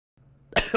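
One short cough close to the microphone, preceded by a faint low hum, with a quick second burst trailing right after.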